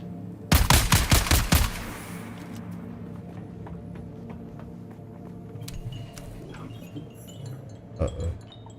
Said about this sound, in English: I just tried to shoot that guy from a distance.